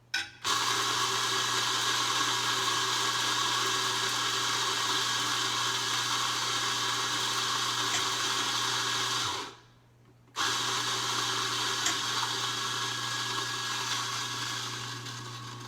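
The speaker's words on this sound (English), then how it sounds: "So grind that up real quick." Electric grinder whirring steadily through a 15-gram dose of Ethiopia Yirgacheffe coffee beans for espresso, loud and close, with a brief stop near the end before the motor starts again.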